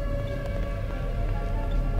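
Steady wailing siren-like drone inside Garry's Mod during a FNAF 2 animatronics game, with sustained tonal bands over a low rumble, constant and moderately loud throughout.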